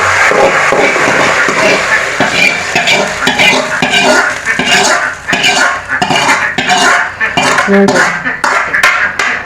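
Fried tempering is scooped from a pan with metal utensils and poured into a Kerala dry fish curry, giving loud, busy clinks, scrapes and stirring clatter over a faint sizzle, with no talking.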